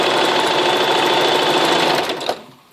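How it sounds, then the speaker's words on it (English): A sewing machine stitches stretch knit velvet in one loud, steady whirring run that slows and stops near the end. "make sure you pull as you're sewing so you won't have tight tension"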